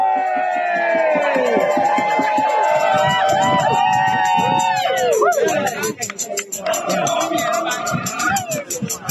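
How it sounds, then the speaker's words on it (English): A crowd at the Montol Cornish midwinter solstice festival cheers loudly for a torch bearer, many voices shouting and whooping together in a sustained roar, with chatter continuing as the cheer fades. "A cheer for the man with the torch!"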